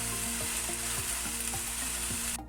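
Carrots sizzling in a hot pan for chicken vegetable spaghetti, a steady close fry with a low hum and regular scraping knocks of a spoon stirring, ending abruptly.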